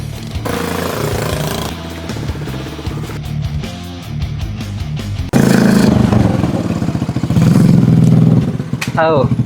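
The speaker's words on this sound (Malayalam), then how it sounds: "ഇതെന്ന് പറഞ്ഞാൽ ഒരു ചപ്പിൽ നിന്ന് ഉണ്ടാക്കിയെടുത്ത ഒരു മോട്ടോർ ബൈക്ക്" A homemade motorcycle built from scrap parts, fitted with a Honda Activa scooter engine and Bullet girder forks, runs steadily with a busy mechanical clatter, getting louder and rougher partway through.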